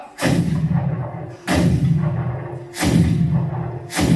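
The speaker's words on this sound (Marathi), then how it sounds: "इतक्यात पुन्हा तोफेचा आवाज घुमला" Four heavy booms of cannon fire, evenly spaced about every second and a half, each with a long rumbling tail.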